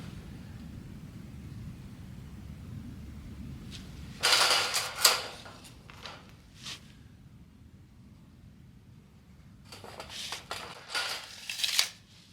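A sheet of 8-foot metal roofing is cut in half with snips in two bursts of crisp, close shearing and crunching, each followed by quiet, after a stretch of low rumbling background.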